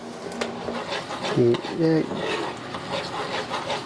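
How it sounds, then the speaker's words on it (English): A spoon stirs a thickening honey-like sauce in a pot, with soft scraping and a couple of brief clinks against the metal over a low background hiss. "We want to stir it to make sure it doesn't stick to the bottom, where it doesn't scorch."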